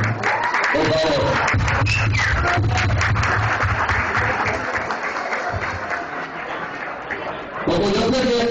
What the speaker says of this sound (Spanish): a mí me gustaría que entre todos, aunque sea 10 segundos, de aplauso y sonrisa al señor Pedro